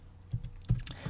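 A few crisp computer keyboard keystrokes, close and moderately quiet, irregularly spaced over about a second with no voices.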